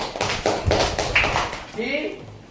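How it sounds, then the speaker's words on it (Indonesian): Pupils in a classroom give a group a short round of applause, a few seconds of scattered hand claps close by with voices mixed in toward the end. "Tepuk tangan buat kelompok 5"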